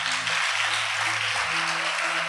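Congregation applauding God at a church service, a dense steady wash of clapping with low sustained musical tones underneath.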